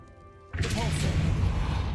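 Repulso spell impact from Hogwarts Legacy, a sudden loud burst that stays sustained and roaring for over a second after a quiet lead-in.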